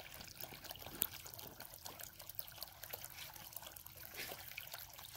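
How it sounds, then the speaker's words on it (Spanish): Water stream gushing steadily from a repaired irrigation pipe fed by a shallow well, a continuous splashing trickle heard close and alone, with no voices. "Miren, siempre está algo gruesecito el chorro que sale"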